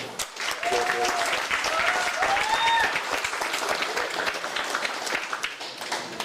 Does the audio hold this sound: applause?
yes